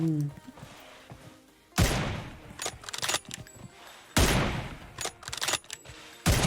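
Bursts of gunfire from the mobile battle-royale game PUBG Mobile, three loud broadband volleys spread across the span, with people chatting and laughing between and around the shots.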